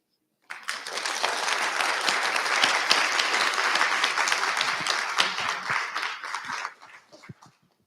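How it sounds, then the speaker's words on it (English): Audience applause after a presentation, a full steady round of clapping that rises abruptly, holds for about six seconds, then tapers off to a few scattered claps. "let's give them another round of applause"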